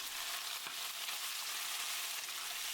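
Chicken with almonds frying in a hot wok or pan, a steady, fairly faint, dense hiss of sizzling oil with a brief stir near the start.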